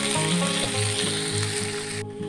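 Chopped onions fry over low to medium heat in a pan for a Bengali chicken khichuri, giving a steady close sizzle and crackle with faint stirring, ending abruptly.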